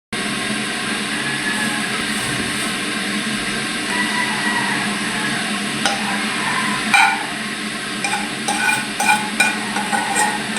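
Egg and century tuna stir-fry in a pan with a continuous dense sizzle throughout, joined near the end by several sharp scrapes and clacks of a utensil against the pan.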